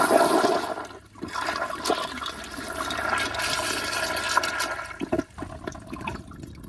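A Toto CT705 toilet on a piston flushometer flushes with a loud, continuous rush of water that holds steady for several seconds, dips briefly near the end, then surges again.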